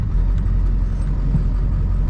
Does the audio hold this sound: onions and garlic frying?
no